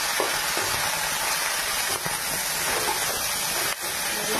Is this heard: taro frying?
yes